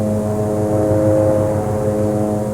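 A dispersant-spraying aircraft drones steadily overhead, its engine and propeller giving a loud, continuous low hum with no break.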